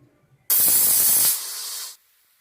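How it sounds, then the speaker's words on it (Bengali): Steam blasts from a pressure cooker in one sudden loud hiss lasting about a second and a half, fading slightly before cutting off sharply, alone and close by. "দুটো সিটি হয়ে গেছে প্রেসার কুকারে"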